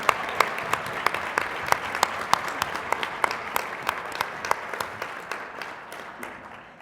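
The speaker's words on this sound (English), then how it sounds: "Let's give them another round of applause." Applause from a convention audience at a state PTA gathering, with a few loud near claps standing out in a steady rhythm over the softer crowd clapping, which slowly fades toward the end.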